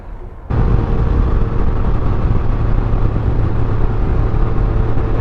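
A Can-Am Ryker three-wheeled motorcycle starts moving on a chilly day in Port Saint Lucie, Florida, its engine a steady, loud close drone under wind rush that begins with a sudden jump half a second in and holds without a break.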